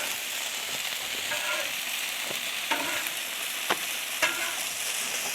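Gyro pitas warming on a hot Blackstone griddle, a steady low sizzle with a few sharp spatula taps and scrapes as they are flipped.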